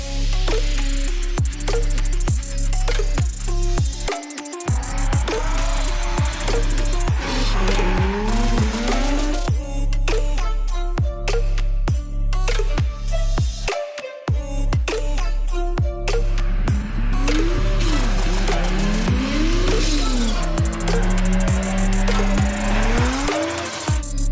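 A LADA drift car with a 2JZ-GTE engine is driven hard, its engine revving up and down repeatedly with tire squeal and skidding, loud and close throughout.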